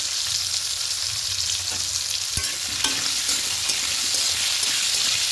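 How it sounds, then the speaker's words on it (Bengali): Potatoes frying in a pan with a little salt and turmeric crackle in a steady, close sizzle, with occasional stirring scrapes and one sharp knock of the utensil against the pan. "আলুগুলো লাল লাল করে ভেজে নেবো"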